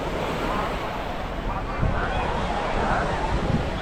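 Steady wash of surf rolling onto a shore at Dhanushkodi, Tamil Nadu, India, with wind noise buffeting the microphone throughout and a few slightly louder breaking waves.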